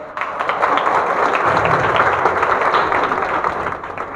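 Audience applause at a birthday celebration held at an institution for blind residents, a dense sustained round of many hands clapping, loud and close, lasting several seconds before tapering off.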